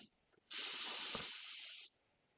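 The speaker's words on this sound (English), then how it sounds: "why don't we take a couple deep breaths together?" A single long breath, a smooth airy hiss lasting over a second, close and quiet, then silence.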